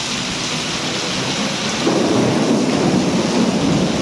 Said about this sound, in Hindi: बिजली गरज रही है